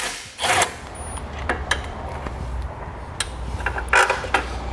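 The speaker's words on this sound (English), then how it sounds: "You'll need a 13mm socket to take that nut off." A 13mm socket loosens a nut on the horn bracket of a 2015 Chevrolet, giving close, scattered metallic clicks, scrapes and short ratcheting bursts.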